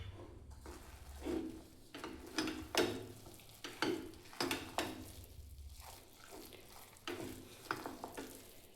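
Soft-cooked khara pongal being mashed in a pot, a steady series of squelching, scraping strokes repeating roughly every half second, close and fairly quiet, with no talking.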